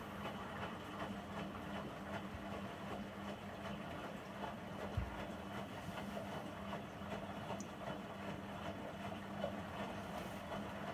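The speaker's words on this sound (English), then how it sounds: "So then it skips 10 completely and it goes into just tumbling." A Beko washing machine in service mode tumbling its drum, a steady low mechanical rumble and hum with soft periodic thuds, continuous and fairly quiet, with no talk.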